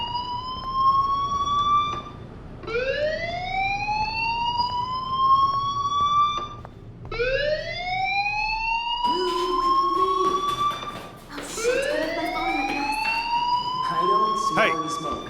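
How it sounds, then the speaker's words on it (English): Fire alarm in the video game Life is Strange, a loud electronic siren sweeping upward again and again, the rising wails overlapping and continuing without a break. "do you hear that fire alarm? That means you should be outside."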